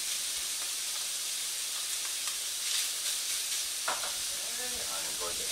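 Mushrooms hit a hot frying pan for a shepherd's pie, giving a bright steady sizzle and hiss with occasional stirring clatter and a faint voice in the background.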